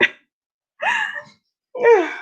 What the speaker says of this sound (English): That was a sneeze, by the way.